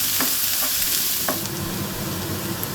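Onions sauté in hot oil and are stirred in a pan, giving a loud, continuous sizzle close by, broken by a few quick scraping strokes.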